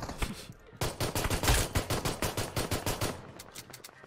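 Automatic gunfire in a video game, a fast regular string of sharp loud shots in bursts, close and punchy, thinning out toward the end.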